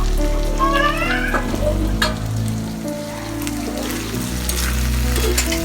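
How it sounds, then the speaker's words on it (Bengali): Food frying and sizzling in a pan during home cooking, a continuous hiss under clattering and background household sounds, with occasional short squeaky tones. "আমরা রান্না করতেছি"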